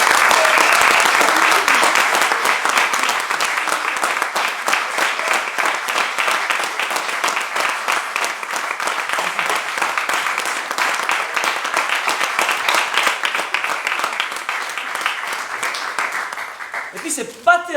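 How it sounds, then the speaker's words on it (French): Thunderous theatre audience applause at a show, a long, dense, loud wall of clapping that stays strong for most of its length before thinning out, with a few voices emerging at the very end. "Donc on aimerait un tonnerre d'applaudissements pour Joël Allègre."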